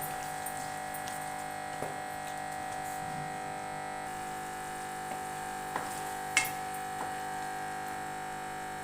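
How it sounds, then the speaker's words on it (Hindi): Ghee being added to minced keema and stir-roasted in a pan, giving a steady soft sizzle over a constant electrical hum, with a few faint scrapes and light clicks from stirring. "अब हम इसके अंदर घी ऐड करेंगे। घी ऐड करेंगे और इसकी बुनाई करेंगे।"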